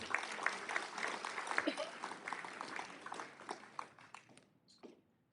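An audience at a mayoral candidates forum applauds as candidates return to the stage, a burst of clapping that is dense at first and then thins out and fades toward the end.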